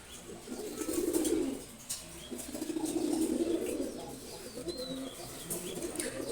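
Male pigeons coo close by in several drawn-out rolling calls, mixed with brief flutters of wings flapping, with no one talking.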